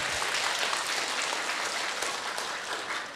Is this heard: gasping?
no